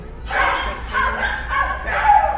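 Two dogs give a few short, yipping barks and whimpers close by, in uneven bursts over a low background hum.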